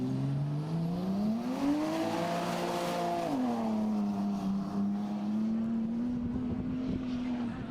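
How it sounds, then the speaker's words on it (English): A small 2JZ-engined race car pulls away from the start line at an enduro event, its engine note rising as it revs up, easing off briefly, then holding a steady loud drone close by without any talk over it. "Little 2JZ powered car, this thing, so..."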